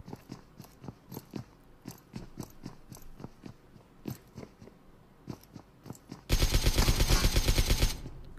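Gunfire in the battle royale game BGMI: sharp single shots crack out at an uneven pace, then a loud sustained burst of automatic fire runs for more than a second before ending.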